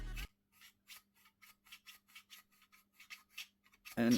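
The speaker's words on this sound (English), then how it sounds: "it will slide with that amount of friction and that amount of sound" A short scraping rub of a Novritsch SSR4 part sliding with friction, a series of quick rasping strokes at close range, ending in a louder knock.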